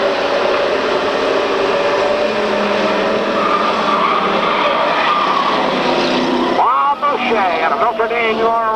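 Street stock race cars roar together at the start of a race, a loud sustained engine drone with rising pitch sweeps near the end, under a public-address commentator's voice.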